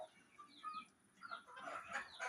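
Farm chickens, including a Kadaknath hen, give soft scattered clucks and chirps at a moderate distance over a steady outdoor hiss and a faint high whine.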